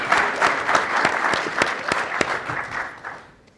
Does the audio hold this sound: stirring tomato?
no